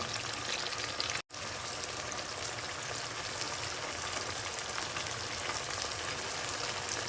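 Garlic ginger paste and ajwain sizzle in a frying pan, a dense steady crackling hiss that drops out for a brief instant and then continues evenly.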